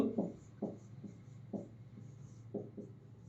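Writing on a board during a lecture makes a few short, separated strokes and taps, fairly quiet and close, with a low hum beneath.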